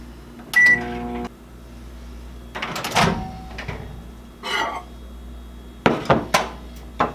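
While candy bar layers melt for homemade Snickers, a microwave oven gives a bright beep, its door thuds and clunks several times, and a low running hum sits underneath, close by and with no talking.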